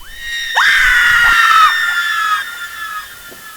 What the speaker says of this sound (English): The screams. Did you hear them?